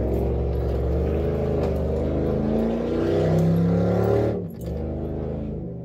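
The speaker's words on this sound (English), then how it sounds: "As you can tell, this truck is loud." Loud truck engine rumbling steadily from inside the cab while driving, a deep droning hum that rises briefly as it revs, then drops as the throttle eases off.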